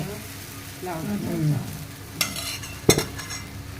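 Onion dosa batter spread thickly on a hot pan gives a soft sizzle, overlaid by a voice and followed by a couple of sharp scraping clinks of a utensil against the pan.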